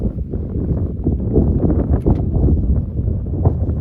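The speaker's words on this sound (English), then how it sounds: "it was really windy at this point" Strong, swirling wind buffets the microphone on a golf course in Iceland, a steady low roar with gusty swells and no talk.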